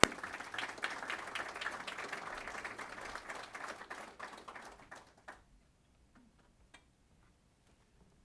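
An audience welcomes a speaker with a burst of scattered applause, loud at first, then thinning out and fading to a few last claps, with quiet afterward.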